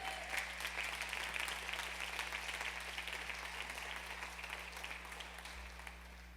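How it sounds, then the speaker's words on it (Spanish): A church congregation applauds during a Spanish-language service, steady dense clapping that holds evenly for several seconds at moderate volume without talk. "¿Cuántos le dan un aplauso a Dios por eso, amado?"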